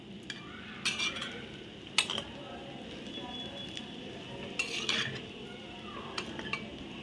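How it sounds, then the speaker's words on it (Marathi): Sabudana khichdi stirred in a pan, with soft scraping and a few sharp clinks of a spoon against the metal at irregular intervals, close by and fairly quiet. "आता हे एकदा आपण मस्त ढवळून घ्यायचं आहे।"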